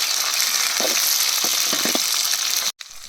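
Small shallots frying in sesame oil with dried red chillies, a loud continuous sizzle with a few crackling pops and stirring scrapes midway, then a brief cut-out.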